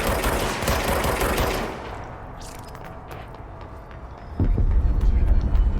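Rapid bursts of automatic gunfire from the video game Control fill the first two seconds, loud and dense, then fade into a quieter game ambience before a heavy low rumble kicks in near the end.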